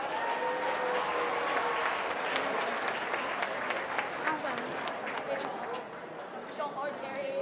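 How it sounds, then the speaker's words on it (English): Applause for the winners at a regional awards ceremony, a crowd clapping steadily and fairly close, with scattered cheers and voices mixed in before it tapers slightly toward the end. "Let's give another round of applause for our winners."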